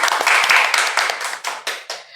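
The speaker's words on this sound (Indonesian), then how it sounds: "tepuk tangan dong" A studio audience at a high-school podcast claps their hands in a lively burst, loud and close, then the clapping thins into a few separate, fading claps.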